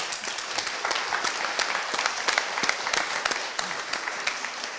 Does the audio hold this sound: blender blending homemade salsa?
no